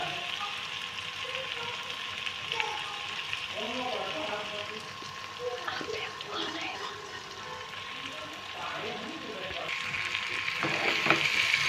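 Boiled rice tossed into a hot pan with wheat noodles and stir-fried, a continuous close sizzle with scraping stir sounds running under a person talking.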